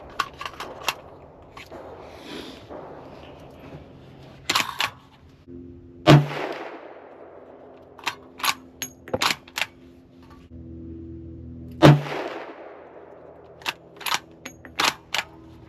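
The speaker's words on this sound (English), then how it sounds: "We'll shoot 3 of these in the top right." A Ruger American Ranch Gen 2 rifle in 350 Legend firing ballistic-tip rounds at a range: several loud, sharp reports with short decaying tails, separated by quieter mechanical clicks and handling noise.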